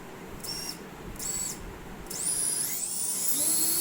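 Racing drone motors spun up on a bench test through the receiver, three short high whines followed by a longer rising spin-up that keeps climbing in pitch, close and fairly loud.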